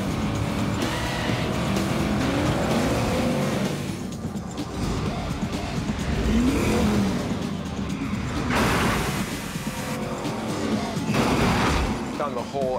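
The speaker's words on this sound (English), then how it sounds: "And he's got a very, very exciting car chase." Loud, continuous car-chase soundtrack from the film Gone in 60 Seconds: roaring engines and repeated tire squeals and skids over dense action noise, with brief higher squeals near the end.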